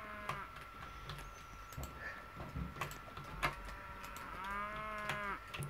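Cows mooing in a Roblox game, a few drawn-out bovine calls at moderate loudness over a steady noisy game background, with a longer moo near the end.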